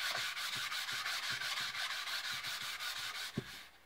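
Sandpaper rubbed back and forth over a store-bought wooden ax handle to smooth away small raised fibers, a steady close scratchy hiss in quick regular strokes with one brief knock near the end.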